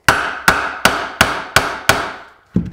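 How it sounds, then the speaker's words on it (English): A hammer strikes a steel bolt on a boat's steering wheel, six sharp, evenly spaced metallic smacks about a third of a second apart, then a short pause and one more hit. "Give it some good smacks right on the bolt."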